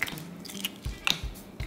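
Shells come off Instant Pot boiled eggs in a few small, close crackles and soft squishy crunches, quiet and irregular.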